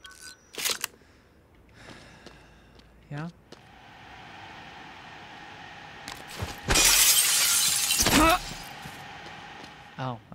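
A looking glass shatters in the Prey video game, giving a loud, bright burst of breaking glass that lasts about a second and a half. Scattered clicks and soft ambient hum come before it.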